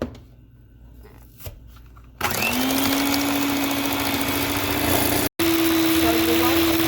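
Electric mixer creaming unsalted butter with sugar and grated mandarin peel, starting up after a quiet moment and then running loud and steady with a whirring motor drone, with a brief cut near the end.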